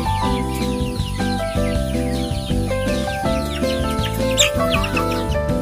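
Ayam Rumu chickens in a farm coop cluck busily in overlapping calls, with occasional sharper squawks, heard close and loud throughout over a steady mechanical hum, with no talking.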